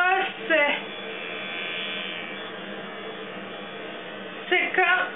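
A facial cleansing brush runs with a steady, close electric buzz lasting several seconds, with a person speaking briefly just before and after it.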